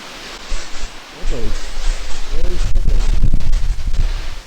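Strong wind gusts and the steady roar of a mountain waterfall at Rainbow Falls in North Carolina fill the air as a loud, continuous broadband rush, with voices speaking briefly over it.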